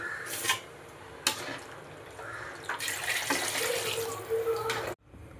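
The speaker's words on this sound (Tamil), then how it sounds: "கலந்த மசாலா தண்ணியை அந்த சிக்கன் கூட சேர்த்துக்கோங்க." Water pours and splashes into a pot of chicken curry with spice paste in bursts, with a gurgling, running stream through most of it before cutting off near the end.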